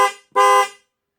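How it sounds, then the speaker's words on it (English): A custom dual low and high note horn fitted to a Honda Pioneer 1000 side-by-side, two loud honks: a short toot followed by a longer, sustained blast, then silence. "So I think the horn sounds really good."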